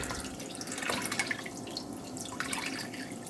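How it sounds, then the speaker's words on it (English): Liquid Death canned mountain water is poured into a brine for St. Patrick's Day beef, giving a steady, close splashing trickle with faint drips and no voices. "we're going to add the water"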